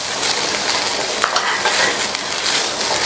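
Boiled beans and carrots tossed in a frying pan for a poriyal, a continuous hissing sizzle with soft scraping strokes of stirring, close and steady.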